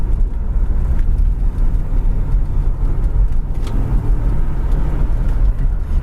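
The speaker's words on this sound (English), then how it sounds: "And really, it's got good acceleration." A 1966 Pontiac LeMans sedan with an overhead cam six, freshly tuned up, driving along with a steady low engine drone and road rumble heard from inside the car.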